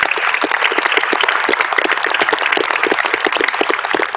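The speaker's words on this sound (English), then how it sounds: "give them some applause" Loud, close applause from an awards-night audience, a dense continuous patter of many hands clapping with an uneven rhythm throughout and no talking over it.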